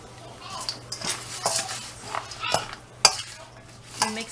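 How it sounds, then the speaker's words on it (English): A spoon mixing walnut and salt stuffing for pickled eggplant in a bowl, with soft scraping and clinking strokes at an irregular pace, close and fairly quiet. "I'm mixing everything together."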